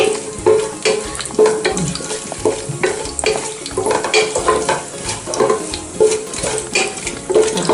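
Masala for chicken biryani frying in a pot while being stirred, with a close, busy sizzle broken by repeated scraping strokes in an uneven rhythm and no voices.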